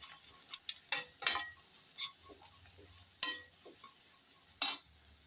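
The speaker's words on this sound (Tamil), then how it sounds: "கல் உப்பு இதெல்லாம் போட்டதுக்கப்புறமா நல்லா ஒரு வதக்கு வதக்கி விட்டுட்டு" Orange peel and rock salt stirred in a hot pan for a pickle, with a few sharp scrapes and clicks of a spatula over a faint, quiet sizzle.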